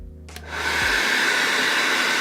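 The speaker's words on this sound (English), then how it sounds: "apply a warm setting on with the hairdryer" A hair dryer on a warm setting, used to style a moustache, switches on after a brief moment and settles into a loud, steady whooshing blow close by.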